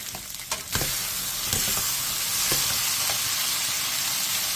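Zucchini, mushrooms, onion, minced garlic and salted shrimp stir-fry in oil in a pan over medium heat. A steady loud sizzle carries throughout, with a few sharp scrapes and stirs early on.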